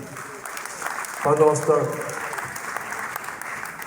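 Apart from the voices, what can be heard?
audience applause for a theatre troupe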